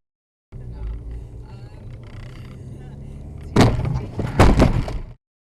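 A car collision after a red car changes lanes: a steady road drone from the moving vehicle, then a sudden loud crunching impact followed by a second burst of banging and scraping before everything cuts off.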